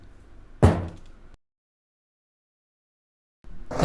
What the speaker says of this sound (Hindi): यह सुनकर मनीष को बहुत गुस्सा आता है और उस दरवाजे को लात मारने लगता है।